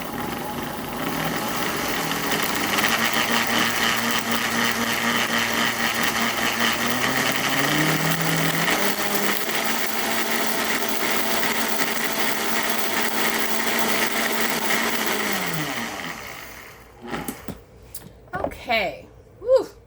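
Blender whirring as it crushes dried kale, a steady loud motor drone with a pitch shift partway through before it stops near the end, leaving scattered faint clatter.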